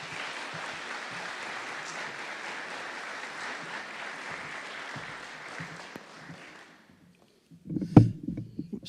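Moderate audience applause welcoming a speaker to a lecture, continuing for about six seconds and fading out, followed by a brief silence and a short bump of handling noise.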